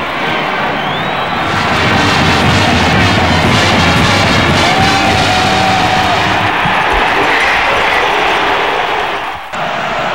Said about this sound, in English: a sellout crowd at Beaver Stadium